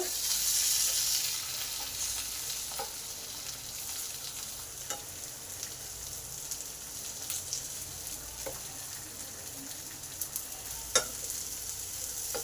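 Kakrol, spiny gourd, frying in a pan as part of a vegetarian recipe, a steady close sizzle with occasional small pops and crackles throughout.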